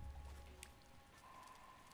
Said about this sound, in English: So it also rains too in this area